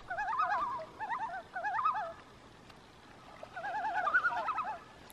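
Loons call across a calm northern lake, rapid warbling tremolo phrases in two bursts separated by a quiet gap, clear and moderately distant, with no voices.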